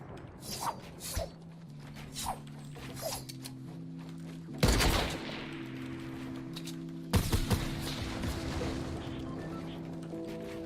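An AK-47 fires in a video game set in a jungle. A few sharp, loud bursts cut through a looping, tonal game soundtrack and soft background ambience.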